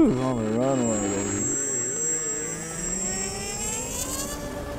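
An AeroScout S 1.1 RC model airplane taxiing on a runway, its electric motor whining in a steady rising and falling drone, close and loud, with a brief voice at the start.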